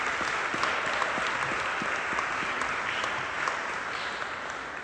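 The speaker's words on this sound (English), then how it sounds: "let's give a round of applause to the poets who read" An audience at a poetry reading claps in a steady round of applause, many hands patting together at moderate distance, continuous and even with no voices over it.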